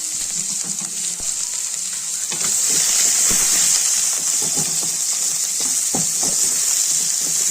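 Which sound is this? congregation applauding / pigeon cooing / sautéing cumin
sautéing cumin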